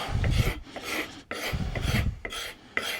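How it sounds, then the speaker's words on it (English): A knife blade scrapes old adhesive off a wooden axe handle in repeated rasping strokes, close and fairly loud, each pass separated by short pauses, with no talking. "Got that scraped down, got all the adhesive off."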